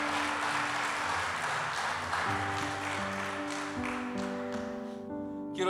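Church congregation applauding during a service, a broad patter of many hands under sustained keyboard or organ chords that take over as the clapping thins toward the end.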